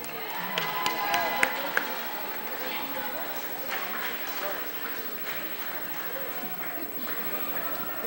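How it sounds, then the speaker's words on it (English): A crowd applauds with scattered clapping and cheering in a large room at a girls' varsity basketball game's senior night, and voices call out over it. "A big round of applause for Tanya Llanos."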